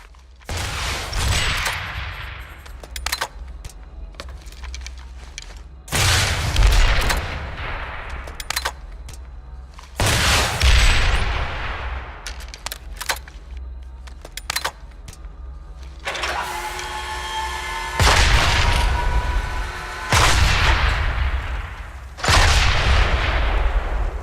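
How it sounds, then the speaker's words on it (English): Anti-vehicle phalanx turret in Planetside 2 firing high explosive rounds, heard as loud booming volleys that repeat every few seconds over a constant rumbling battlefield din. "The anti-vehicle phalanx turret offers great defense against ground vehicles with its high explosive rounds."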